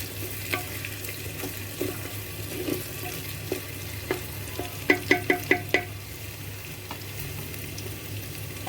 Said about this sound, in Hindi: अदरक को भी थोड़ा सा चलाएंगे उसकी रॉ स्मेल जाने तक